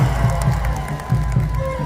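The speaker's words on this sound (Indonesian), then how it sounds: "Bagus sekali, mana tepuk tangannya buat Kampar." Spectators at a tarkam village volleyball grand final cheer and clap for the Kampar team, a lively crowd roar with rhythmic bursts rising and falling over about two seconds, close and steady.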